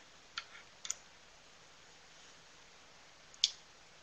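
A computer mouse gives three faint, sparse clicks against a quiet background, two close together near the start and one a few seconds later.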